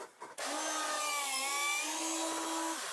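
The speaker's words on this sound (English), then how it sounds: "I'm going to drill a hole straight through this." A steady, whining drill runs continuously through wood for a few seconds after a brief start, close and loud, with no voices.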